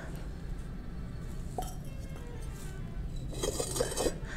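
Clay glasses and a clay mug handled at a village pottery purchase, giving a few faint hollow clinks and taps that grow into a brief cluster of knocks near the end, with no voices.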